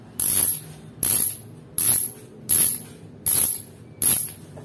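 Upgraded Fastace bicycle rear hub freewheel ratchet buzzing in six even bursts about a second apart, each a loud, sharp, close rattle of clicks that fades quickly, with no talking.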